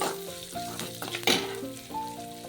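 Cabbage sizzles in a hot pan with onions, a steady close frying hiss broken by brief stirring scrapes.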